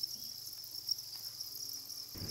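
Crickets chirp in a steady, continuous high trill at a cricket breeding farm, close and fairly loud with no voices.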